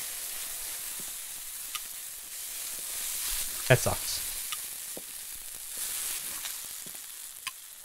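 In a burger restaurant video game, burgers sizzle and burn on a grill with a constant hissing fry and occasional pops and clicks. A person speaks briefly over it.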